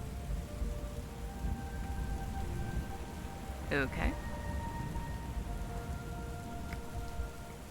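Steady rain pours and patters in a stormy scene from the video game Book of Hours, a constant broadband hiss with faint low rumbling beneath, while a brief word is spoken partway through.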